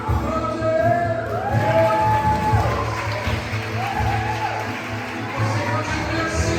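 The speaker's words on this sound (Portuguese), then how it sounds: "Aplaude Ele." A church congregation applauds and cheers during a worship service, a loud, steady wash of clapping and shouts blended with music and voices throughout.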